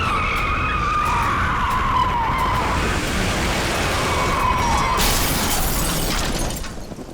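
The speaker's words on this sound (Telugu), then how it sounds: "ఏమైంది? బ్రేక్స్ ఫెయిల్ అయ్యా?" A car skids hard after its brakes fail, a long loud tire screech with engine roar that sweeps down in pitch, rises again, then fades near the end; no talking.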